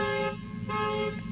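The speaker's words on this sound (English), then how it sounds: "I don't think he faked the car alarm" A car alarm blares loud and continuous, a steady harsh tonal wail with a brief dip midway.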